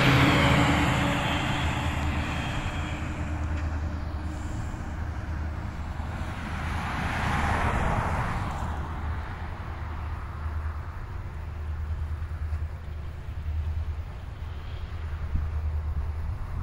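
A freight train led by FGAR locomotives 7156, 6300 and 8143 approaches in DeFuniak Springs, Florida: a steady low rumble with a broad rising swell of noise building in the middle, heard from trackside with some wind across the microphone and no talk.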